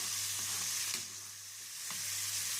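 Minced garlic sizzles in oil or ghee for Egyptian molokhia. A constant close frying hiss is broken by two brief stirring knocks and dips slightly in the middle.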